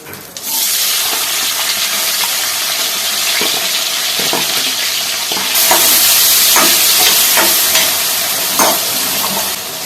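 Chopped onions and green chillies hit hot oil and fry with a loud, close, continuous sizzle that swells midway, with occasional stirring scrapes and no talk.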